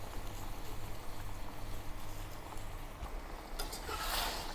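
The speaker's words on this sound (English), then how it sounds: "Let's simmer the pork belly until it becomes tender" Pork belly seasoned with sugar, five-spice powder and white pepper simmers in a pot for Taiwanese guo bao. A soft, steady bubbling and burbling carries a low hum throughout, with a slightly brighter burst of bubbling near the end.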